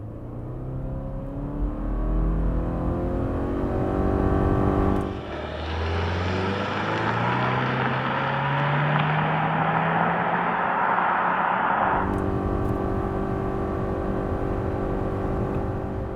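A 2025 Subaru Forester with a 2.5-liter boxer engine pulls hard from inside the cabin. The drone rises steadily, then a loud rushing surge of wind and engine noise takes over for several seconds before easing back to a steadier hum.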